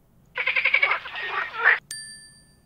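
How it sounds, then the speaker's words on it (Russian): A recorded frog croaks in a quick run of rhythmic pulses, followed by a looser burst of calls, then a bright bell-like ding rings out; close and clear with no talking. "Покажи лягушку. Она квакает."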